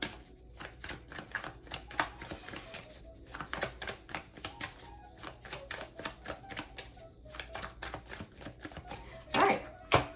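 Tarot cards are shuffled and drawn by hand in a rapid series of crisp riffling taps and slaps, close and fairly quiet, with a louder burst near the end.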